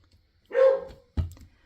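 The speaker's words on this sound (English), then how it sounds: "Bandit was a barker, but I don't think he barked as much as this one does." A dog gives a single sharp, close bark, followed by a short low thump, with quiet around it.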